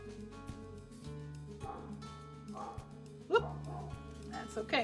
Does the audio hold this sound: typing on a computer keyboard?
no